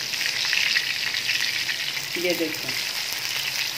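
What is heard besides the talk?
chapli kebabs frying in a pan, being turned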